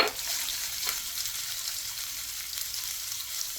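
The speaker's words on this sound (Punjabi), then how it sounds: "ਜਿੱਦੇ ਜੀਰੇ ਨੂੰ ਥੋੜਾ ਸੇਕ ਲੱਗਦਾ ਆ ਤਾਂ ਆਪਾਂ ਅਦਰਕ ਪਾ ਦੇਣਾ ਵਿੱਚ" Cumin sizzles in hot oil as ginger is added for a white chickpea tempering, a steady close frying hiss with a brief stir near the end, no talking.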